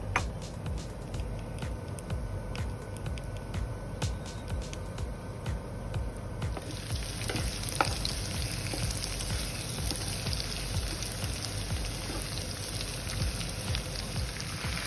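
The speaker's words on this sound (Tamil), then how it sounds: "எண்ணெய் கொதித்து வரும்போது வாசனைப் பொருட்களுடன் கூடிய சேர்வை பொருட்களை சேர்த்து நன்றாக கிளறிக்கொள்ளுங்கள்." Spices fry in hot sesame oil as they are stirred, a soft continuous sizzle with scattered crackles and a low background hum, fairly quiet and without speech.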